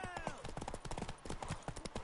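A horse's hooves clip-clop in a quick galloping rhythm in The Witcher 3, steady and close, with game speech and sound partly underneath.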